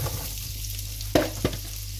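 Diced onions sauté in oil with salt over medium heat, a soft steady sizzle broken by two sharp clacks of a utensil against the pan, close and fairly quiet.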